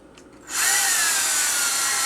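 A power drill whirs up suddenly and holds a steady, loud high-pitched whine as it bores into cork, close by.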